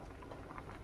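Gongura dal bubbling in a pot, a soft continuous simmering patter with faint irregular pops, steady and close throughout.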